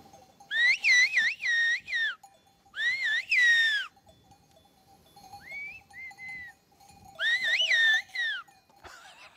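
Shepherd's whistled language on the Greek island of Euboea: loud, piercing, pitch-gliding whistles in several bursts of two or three, with a softer, shorter whistled reply in the middle, no talk.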